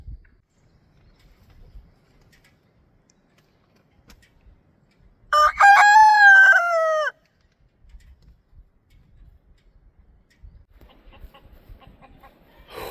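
A rooster crows once, loud and fairly near, in a quiet yard with faint background rustling and no talking.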